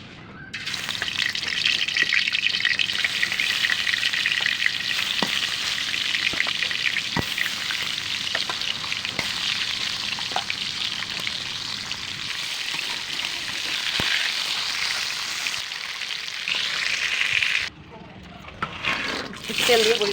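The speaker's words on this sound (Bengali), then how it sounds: "তেল দিয়ে বড়িটা ভালো করে ভেজে নিতে হবে।" Lentil dumplings (dal bori) fry in oil in a pan for a new-year brinjal curry, a steady loud sizzle and crackle with occasional stirring clicks, briefly dropping out near the end before resuming.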